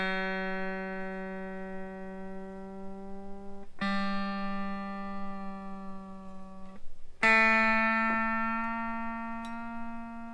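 A sustained guitar note rings while being tuned, then a sharp metallic ping jumps out as the string slips where it catches in the nut, followed by more ringing notes.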